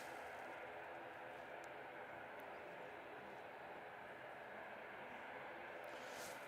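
An Air New Zealand airliner departs Christchurch airport for Auckland, its jet engines making a steady, distant broadband roar that holds level throughout with no break.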